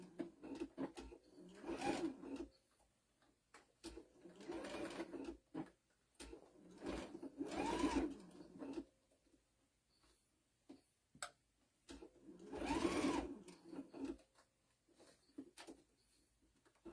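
A sewing machine stitches a zipper pouch, back-stitching in several short whirring runs separated by pauses, close and fairly faint, with no talking.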